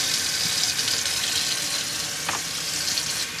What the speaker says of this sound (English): filling up with cold water.